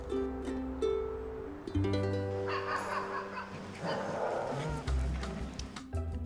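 Several husky puppies, about three months old, yip and whine in overlapping high-pitched bursts, close by on a kennel training ground, with scattered short barks and squeals throughout.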